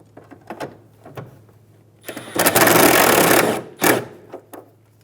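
A power tool drives the corner bolt into the rear bumper of a 2007–2011 Toyota Camry: one loud buzzing run of just over a second, close up, between scattered clicks and knocks.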